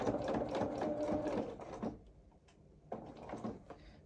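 A sewing machine stitches the collar of a small coveralls outfit, giving a steady close mechanical whir for about two seconds before stopping, followed by a faint brief restart.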